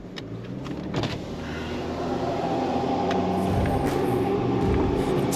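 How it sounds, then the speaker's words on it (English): On a sand track on K'gari, an oncoming car grows louder as a steady vehicle rumble, with occasional clicks and light knocks from the interior. "Watch out, oncoming. Oncoming car."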